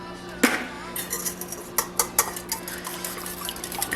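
Plain eggs being whisked in a bowl for a breakfast bowl, with a run of quick, light clinks and taps against the bowl, one sharper knock near the start, close and moderately loud.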